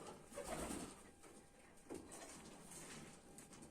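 Domestic pigeons cooing softly in a loft, a few low murmuring coos in short bursts, faint and distant against a quiet background hiss.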